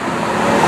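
Porsche Carrera GT engine under way, a steady, harsh mechanical drone with road noise, loud and close throughout a brief moment.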